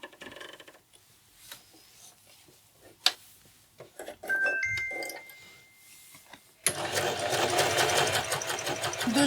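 Janome Ami 10 sewing machine stitching a straight seam on denim jeans; quiet handling and a few soft clicks with some talking come first, then a loud, steady mechanical whirr of the needle running takes over up close.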